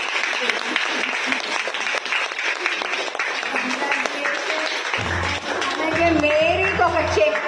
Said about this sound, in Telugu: కొంచెం గట్టిగానే క్లాప్స్ ఇవ్వండి అందరూ కూడా